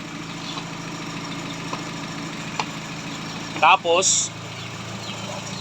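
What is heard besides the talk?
car engine idling with aircon on, RPM dropping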